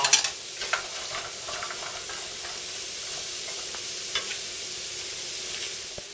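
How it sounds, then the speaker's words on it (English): Onions and zucchini sizzle in a hot pan with coconut oil, a steady close crackling hiss throughout with a few stirring clatters near the start and no voices. "Got to have the pan nice and hot for your onions."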